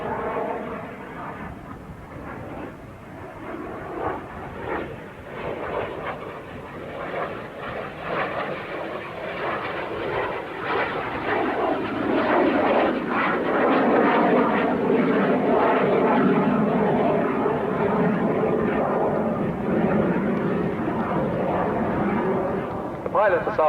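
Jet Provost 5A jet trainer flying at the RAF Halton airshow in 1986, a loud, sustained jet engine roar that swells and builds over the length of the pass, heard under a commentator talking over the public address.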